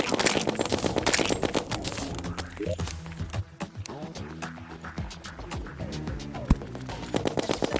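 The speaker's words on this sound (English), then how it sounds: "I will constantly use the snowball cannon as my main line of attacking." Rapid repeated firing of a snowball cannon in the video game Terraria on master mode, a fast stream of sharp popping shots over busy game effects and music-like tones.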